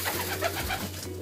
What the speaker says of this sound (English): We're in the pigeon coop.